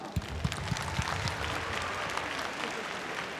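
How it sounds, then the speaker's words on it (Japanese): Audience applause fills a hall at a RISE kickboxing event in Osaka after the Kento Haraguchi vs Petchpanomrung bout, a steady, fairly faint and distant patter of many hands with a few sharper claps early on. "今一度盛大な拍手をお送りください"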